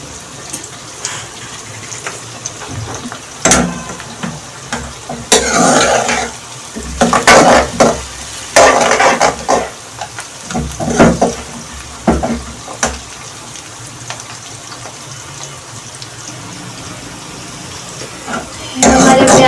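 Onions fry in a pan while being stirred for a spinach and potato dish, with a steady hiss beneath loud intermittent scrapes and clatter of a utensil against the pan, close and uneven in rhythm. No one speaks.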